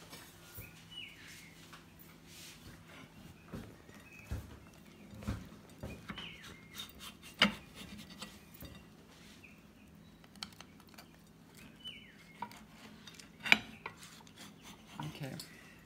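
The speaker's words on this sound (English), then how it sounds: "Now let's cut a slice" A knife cuts a slice from a cape gooseberry tart topped with almond praline, giving faint intermittent scrapes and clinks of cutlery against the dish, with soft crunchy taps and quiet room tone; no talking.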